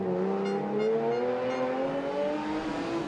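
Historic Porsche race car running a rally course around bollards, its engine droning steadily with slowly rising pitch as it revs and accelerates, heard from a moderate distance.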